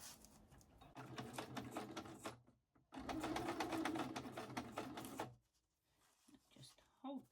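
A sewing machine stitches down through the pages of a handmade shabby chic journal in two long bursts of steady mechanical whirring, with a short pause between them and a quieter gap near the end.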